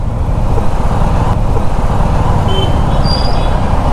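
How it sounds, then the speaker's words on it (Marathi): Dense road traffic of cars, buses and trucks heard while riding a Suzuki V-Strom SX 250 on a congested service road: a constant loud roar of engines with a faint brief hiss near the end, no speech. "खूप ट्रॅफिक आहे"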